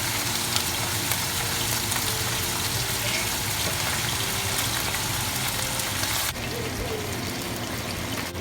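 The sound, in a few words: pork loin frying in hot oil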